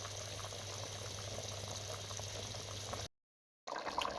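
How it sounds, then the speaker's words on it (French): A pot of broth with meat, seasoning and vegetables for Ivorian rice boils at a steady bubbling simmer, close and even, with a short cut near the end. "Après un bon moment d'ébullition"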